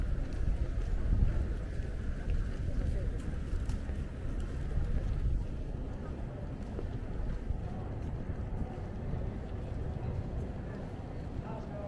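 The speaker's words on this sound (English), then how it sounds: "Windy. Windy." Wind buffets the microphone on a walk along a book street in Hongdae, Seoul, a steady rushing roar with low thumping gusts and faint city ambience throughout.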